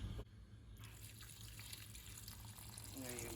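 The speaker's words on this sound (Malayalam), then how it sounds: "So I'm going to pour some more water into it." Water poured into a pot of vegetarian vegetable soup, a steady trickling flow that runs close and moderately loud for a few seconds, with a brighter splash near the end.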